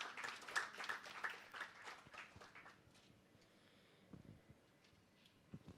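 An audience gives a round of applause for the jury at a Haryana Day celebration and photography competition result event. The clapping is fairly faint and dense at first, then thins and fades into quiet room noise with a few scattered claps.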